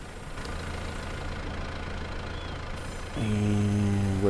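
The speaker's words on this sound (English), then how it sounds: "this tractor's struggling with this load" A tractor engine in Market Farm Empire runs steadily under a heavy load with a low, rough drone, then rises into a louder, strained tonal hum near the end.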